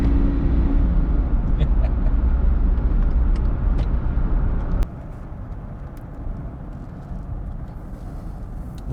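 Daimler Double Six V12 car accelerating hard in first gear on a 40 mph road, a loud steady engine roar close by that drops sharply in level about halfway through, then continues quieter.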